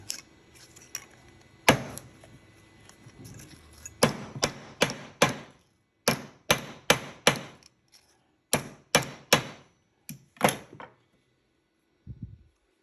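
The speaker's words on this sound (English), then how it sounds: "you're gonna take a ball peen hammer and just hit it a couple times" Sharp metallic ball peen hammer strikes on a laptop hard drive ring out in quick clusters of three or four, separated by brief pauses, close and loud against a quiet background.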